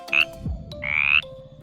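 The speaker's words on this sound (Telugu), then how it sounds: "కప్పలు సౌండ్స్ చేశాయంటే నన్ను అడగొద్దు భయ్యా" Frogs croak in a garden during the rainy season: two loud, close, buzzing croaks, a short one followed by a longer drawn-out one, with nothing else around them.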